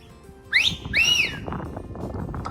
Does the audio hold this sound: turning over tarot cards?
no